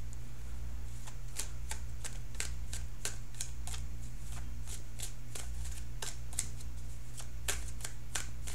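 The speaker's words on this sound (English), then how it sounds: "just a few more seconds and then I'll cut the cards" A deck of tarot cards is shuffled and cut in steady, repeated riffling bursts over a constant low hum, close and fairly quiet, with no talk.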